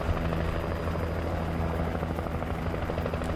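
A searchlight-equipped helicopter in the video game Alan Wake hovers nearby with a steady, loud rotor drone and engine hum, holding constant throughout with no talk over it.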